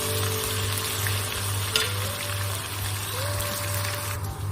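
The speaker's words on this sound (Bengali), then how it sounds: "তেলটা গরম হওয়ার পর আমরা পেঁয়াজটা দিয়ে দেবো।" Onions sizzle steadily in hot mustard oil in a pan, a constant close frying crackle with a low background hum and one brief clink partway through, with no talking.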